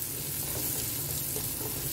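Spinach, potatoes and chicken cubes stir-fry in a pan on high flame, giving a steady, fairly quiet sizzle with no voices.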